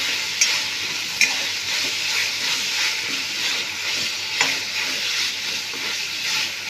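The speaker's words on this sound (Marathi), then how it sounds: "आपला मसाला मस्तपैकी तेलामध्ये फ्राय झालेला आहे." A spiced masala frying in hot oil while being stirred for a dhaba-style paneer curry, heard as an even, close sizzle broken by three brief spatula clicks against the pan, with no speech.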